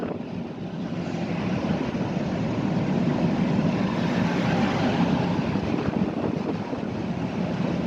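A steady, loud roar of strong wind buffets a moving vehicle on flat land in Maharashtra, constant and unbroken with no voices.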